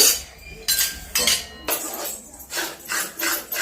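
Thick besan barfi mixture is stirred in a pan, the spoon clinking and scraping against the metal in repeated, fairly loud strokes.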